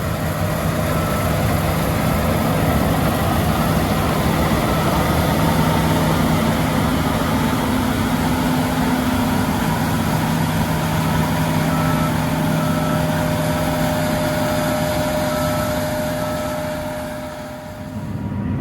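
A John Deere S7 800 combine harvester works through a wheat field, its engine and threshing machinery giving a steady, loud, continuous drone with sustained mechanical whine, close by and unbroken for the whole stretch before easing off at the end, with no talk.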